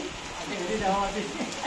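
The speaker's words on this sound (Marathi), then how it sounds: "जोर वाढलेला आहे पावसाचा" Heavy rain pours steadily in the Konkan region, a dense hiss with patter on surfaces, heard beneath someone talking nearby.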